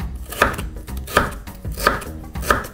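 Homegrown carrots sliced with a knife on a cutting board for bigos, four evenly spaced sharp knocks of the blade against the board, close and clear with no talking.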